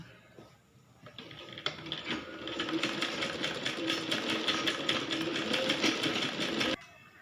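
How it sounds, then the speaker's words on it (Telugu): Sewing machine stitching thin piping onto a baby's long frock, a steady rapid chatter of the needle running for about five seconds after a few brief starts, close and loud, ending abruptly. "ఈ విధంగా సన్నగా పైపింగ్ ఈ విధంగా కుట్టుకోవాలి."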